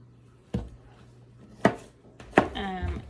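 Knife chopping tomato on a cutting board for a salad, three sharp separate thuds spaced about a second apart, close and crisp, the last one trailing into a faint clatter.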